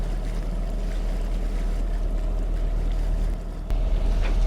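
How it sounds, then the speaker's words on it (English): Steady, loud wind roaring across a sailboat at sea in the Arctic off Svalbard, with water rushing along the hull and a dense, continuous low rumble; no speech. "Too bad the wind's picking up."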